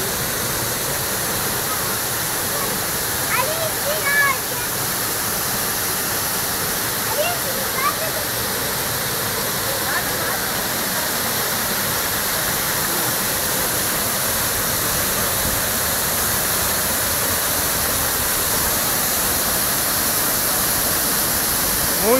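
Waterfall in a park, a steady broadband rush of falling water that holds loud and constant throughout, with a few faint voices briefly audible beneath it early on.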